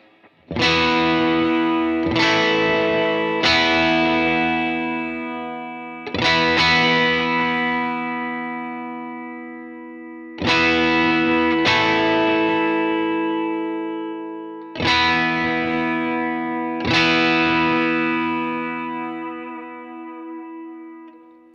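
Electric guitar played through a Fender Tone Master Pro effects preset with studio-style compression, loud and distorted with chorus shimmer. Seven separate chords or notes ring out one after another, each left to sustain and decay slowly, with no talking.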